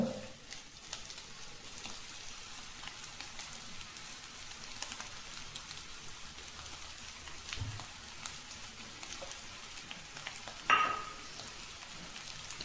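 Cauliflower and chana dal crackle steadily in hot oil in a pan, a dense, even sizzle running throughout, with a brief louder scrape of a spoon near the end; nobody speaks.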